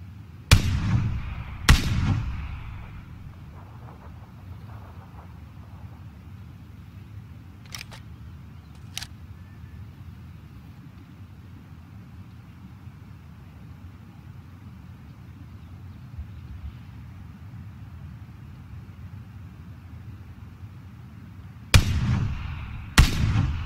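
Bullets fire in sharp, loud single cracks, two near the start and two more at the end. Fainter snaps come in between, over a quiet background hum.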